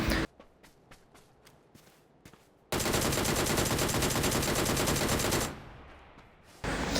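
Gunfire in the NEW STATE Mobile video game, a few scattered shots followed by a long, loud sustained automatic burst and then another burst after a brief pause.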